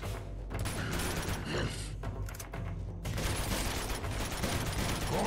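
Heavy sustained gunfire from a firefight in the video game Uncharted 2: Among Thieves, loud rapid bursts and fusillades filling the whole stretch, with brief speech mixed in.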